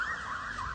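Emergency vehicle siren wailing through Prague's historic old town during a lockdown, a single rising and falling electronic tone, clear and sustained, with no voices.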